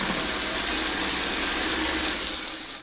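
A sewing machine stitches fabric with a steady, close motor whir for about three seconds, then winds down at the end. There is no talking.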